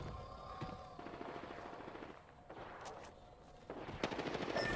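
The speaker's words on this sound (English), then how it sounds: "Getting shot at." Rapid automatic gunfire bursts in an online battle-royale shooter game, dense rattling volleys with sharp single shots layered over a constant mix of game sound effects, loudest toward the end.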